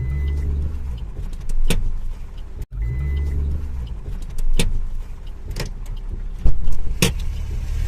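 A car backs up slowly, a steady low engine drone running throughout with a few sharp clicks and knocks, and no talking.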